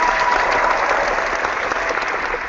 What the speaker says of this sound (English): Applause for D-Like.